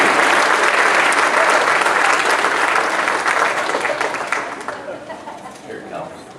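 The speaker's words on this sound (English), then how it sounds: "So I think we need to give him a huge round of applause." A high school spring band concert audience gives loud, sustained applause that gradually thins and fades toward the end, where scattered claps and voices remain.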